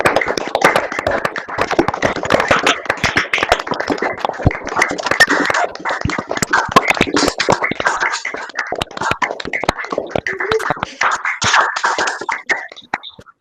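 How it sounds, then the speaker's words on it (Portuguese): Participants in an online meeting clapping into their open microphones, a scattered, uneven patter of many separate hand claps with faint murmuring underneath. "eu peço que todo mundo ligue os seus microfones para desejar uma salva de palmas a todos"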